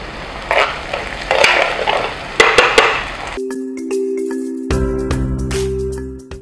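Garlic cloves, parsley and onion hit a hot pan for a chicken lafidi, giving a crackling sizzle with stirring clinks and scrapes, then a steadier frying hiss with faint utensil pings toward the end; no one speaks.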